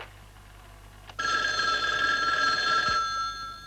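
A telephone bell rings once in a bright, sustained trill lasting about two seconds, close and clear over a quiet room, then cuts off.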